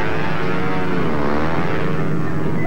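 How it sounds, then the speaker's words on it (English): A propeller airplane in an animated cartoon drones loudly and steadily with a buzzing engine note, close and continuous throughout, with no talk over it. "That's Dr. Flight's plane. The one they call Jalopy."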